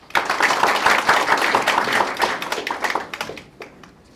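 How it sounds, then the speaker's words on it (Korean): A crowd applauds steadily for several seconds at a university president's inauguration ceremony, a dense patter of clapping that thins out and fades near the end. "박수 부탁드리겠습니다"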